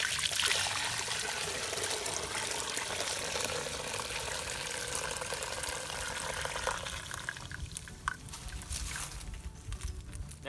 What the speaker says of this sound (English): Now we'll pour it into our container.